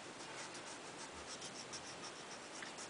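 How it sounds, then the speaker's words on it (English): Pencil strokes sketching a dog drawing on paper, a faint, steady scratchy rasp with soft rhythmic sweeps, continuing alone close to the microphone. "with darker pencil strokes"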